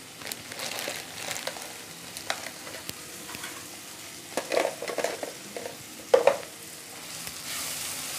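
Vegetables sauté with turmeric and garam masala for a quinoa biryani, a steady soft sizzle under scraping stirs, with a few louder clatters of the spoon near the end.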